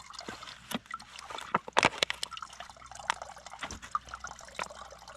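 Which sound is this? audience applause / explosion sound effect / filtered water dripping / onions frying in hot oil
filtered water dripping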